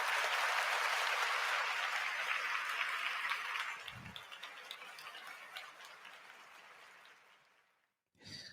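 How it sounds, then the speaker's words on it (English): A round of applause rings out close and dense, holding strong for a few seconds before thinning into scattered claps that fade away to silence. "Brock gets the round of applause"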